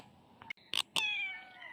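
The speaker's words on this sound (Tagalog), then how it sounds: "Ay, mga kuting mo doon. Umiiyak na." Young kittens cry with short, high mews outdoors near a house, a couple of quick calls followed by one longer, wavering cry.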